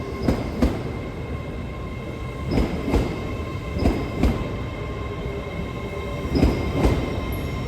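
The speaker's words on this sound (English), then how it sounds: "Departing hours, TransPennine Express service off to Liverpool Lime Street." A TransPennine Express train departs Darlington station, its wheels thumping over rail joints in a regular clickety-clack beneath a steady rumble, close by and with no voices.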